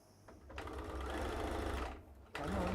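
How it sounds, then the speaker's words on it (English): Electric sewing machine stitching a fabric Christmas hat, a steady close mechanical whir that starts, runs about a second and a half, pauses briefly, then starts again. "we're going to quickly sew the"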